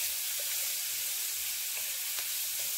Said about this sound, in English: I'm going to keep sauteing these vegetables up.